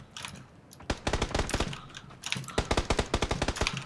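Rapid Glock pistol fire in a PUBG match, two long bursts of sharp, evenly spaced cracks, close and loud, with a short pause between them.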